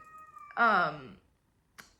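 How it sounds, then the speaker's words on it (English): A pet cat lets out one loud, close meow that rises and falls over about half a second, followed by a brief faint sound after a pause. "excuse my cat in the background"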